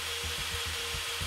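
A drill grinds in the VR game Hand Simulator during its bomb-defusal mode, coming in short rhythmic scraping bursts, close and steady, with no voices.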